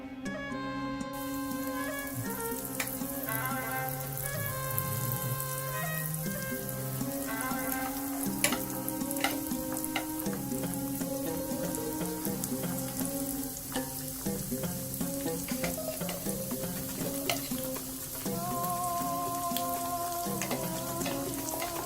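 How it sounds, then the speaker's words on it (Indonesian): Oil sizzles and crackles continuously as chicken nuggets and chicken sausages fry in a pan, with background music playing throughout. "Sekarang kita mau langsung goreng."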